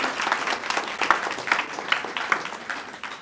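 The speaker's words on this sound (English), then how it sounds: "Let's give ourselves a round of applause." Applause from a modest audience after student startup presentations, a light scattering of claps that swells briefly and tapers, fairly close.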